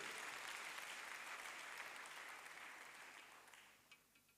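Church congregation applauding at a sermon, a dense, steady wash of clapping that swells then gradually thins and fades toward the end, with no voices over it.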